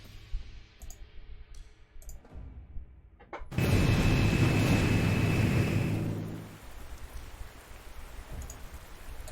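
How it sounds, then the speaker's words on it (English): Rain falls in the World War II video game Corps 2. A sudden loud burst of hissing downpour lasts about three seconds, then drops to a softer steady patter, with faint clicks before it. "it's about to rain"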